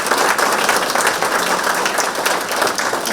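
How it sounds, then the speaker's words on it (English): An audience at a forum event breaks into dense, sustained applause, many hands clapping loudly and evenly throughout. "Can you give Jane and Sharon a round of applause?"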